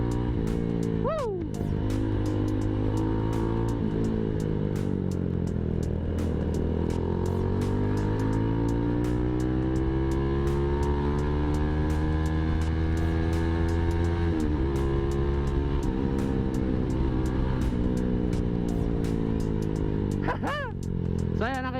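A Kawasaki Z200 motorcycle engine fitted with an APIDO racing CDI idles and revs repeatedly, its pitch rising and falling in long sweeps with clattery mechanical ticks, someone talking over it at times.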